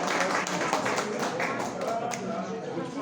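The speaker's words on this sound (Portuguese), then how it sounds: "uma salva de palmas para o nosso palestrante" Audience applause for a lecturer at a historical institute evening talk, a moderate round of clapping from a modest crowd, sustained and fairly even throughout.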